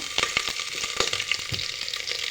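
Panch phoron spices and chopped onion frying in a pan, a steady hissing sizzle with sharp crackles and pops scattered throughout, close and fairly loud, no voices.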